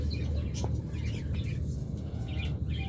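Caged lovebirds, a male and female pair, let out scattered short chirps and tweets over a steady low rumble of background noise, moderately close.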